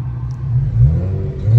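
A car engine in race mode accelerates hard, loud and close, a deep rising rumble and growl filling the whole moment, with no talk, as a Porsche 911 Turbo and an Infiniti Q50 Red Sport race.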